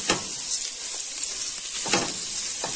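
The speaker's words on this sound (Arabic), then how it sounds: "طبعا البصله دي بتتحمر وانا بحمر كده الشعريه" Vermicelli and onion fry together in a pan with a steady broadband sizzle, while a few sharper bursts of crackle rise and fall as the pan is stirred. No voices are heard.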